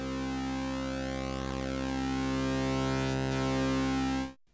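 Two hard-synced Eurorack VCOs produce a thick, steady, buzzy synthesizer tone. It drones evenly, with faint shifting overtones, before stopping sharply near the end.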